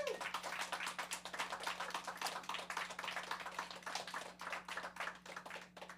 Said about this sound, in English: Can we just give a round of applause for the togetherness of it all?